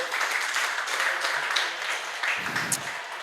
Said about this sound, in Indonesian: Tepuk tangan buat tim produksi Jebret Media.